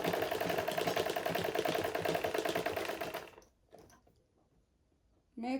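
A sewing machine stitches a basic skirt with a steady, fairly quiet whirring hum that runs for about three seconds. It then cuts off, leaving near silence and a few faint handling sounds.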